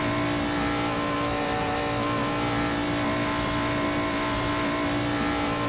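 A 1950s race car engine at Daytona Beach in the Assetto Corsa racing game, a steady sustained engine drone held at constant revs, close and alone with no talk.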